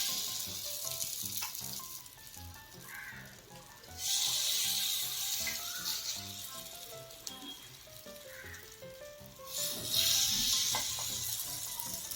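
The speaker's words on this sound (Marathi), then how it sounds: "याला थोडंसं असं तेल लावून घ्यायचं आहे चमचनं असं त्यामध्ये सोडून घ्यायचं आहे एक एक चमच" Rava appe batter spooned one spoonful at a time into an oiled appe pan hisses in a steady sizzle that swells louder in two bursts, with soft tonal background music and no talking.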